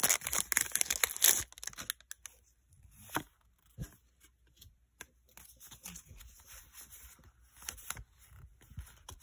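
A Pokémon Silver Tempest booster pack being cut and opened, a loud crinkly tearing of foil at the start, then quieter rustling, scraping and card handling close up.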